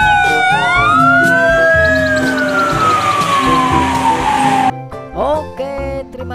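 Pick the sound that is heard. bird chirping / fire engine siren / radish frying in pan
fire engine siren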